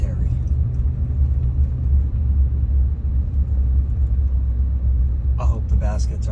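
A car rolls slowly along a road through a cemetery with a low, steady engine rumble close by, and a brief thump and rattle come near the end.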